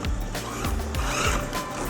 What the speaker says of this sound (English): this car definitely just got a massive upgrade on the speed and power